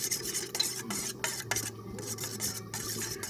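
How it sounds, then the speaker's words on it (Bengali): A spoon scrapes and stirs a cracked egg mixed with green peas in a pan with a little mustard oil, giving steady rasping strokes with short gaps, close up and without speech. "মটরশুঁটিটা দিয়ে ভালো করে ডিমটা একটু নাড়াচাড়া করে নিলাম।"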